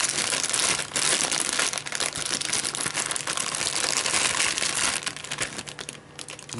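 A plastic packet from an American snack parcel of taco shells and Pop-Tarts is torn open and handled, giving a steady, close, loud crinkling and rustling that runs for several seconds with no talking.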